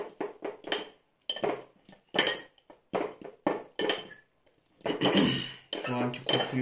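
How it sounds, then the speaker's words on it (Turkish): A spoon stirs a lemon-based home remedy mixture in a container, giving repeated close clinks and scrapes in short bursts, with a voice speaking in between. "Şimdi bunu karıştırıyorum."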